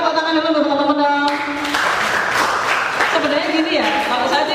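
An audience at a UNS young-entrepreneur seminar breaks into steady, full-room applause that starts after a brief tonal opening and carries on evenly to the end.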